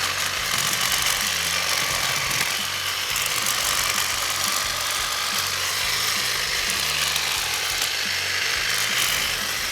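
A Ryobi 18V cordless hedge trimmer (P2660) buzzes continuously with rapid reciprocating blades, chattering and crunching steadily as it cuts down an old rhododendron plant, loud and close throughout.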